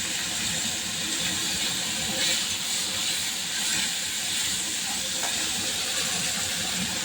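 A gas stove burner turned up to a high flame roars with a steady, broad hiss close by in a home kitchen, unbroken throughout.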